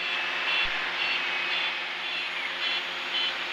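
Twin-engine airplane engines on a takeoff roll from runway 32, a loud, steady droning roar from inside the cabin with a pulsing high whine and throbbing beats, no talk.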